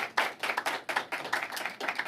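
Applause from a small audience after a talk on patient-oriented reproductive health research: a short, close burst of hand clapping in uneven rhythm, with no speech.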